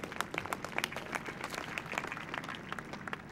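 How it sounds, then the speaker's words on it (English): An audience at the 2015 California State University, Fullerton commencement applauds the graduating class of 2015. Dense clapping from a large crowd sounds somewhat distant and continues steadily for the whole stretch. "Let's give a strong round of applause for our class of 2015"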